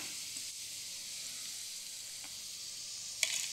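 Ragi onion pakoda fry in hot oil with a steady, soft sizzle and faint bubbling, ending with a brief clink near the close; no one speaks.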